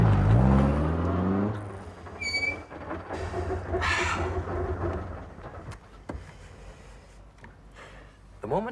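An old vintage car engine cranks and starts with a loud low rumble, then the motor whirs and revs unevenly as it pulls away, with clicks and knocks of the controls and fainter mechanical noise trailing off.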